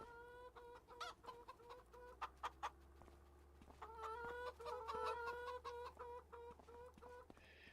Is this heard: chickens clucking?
yes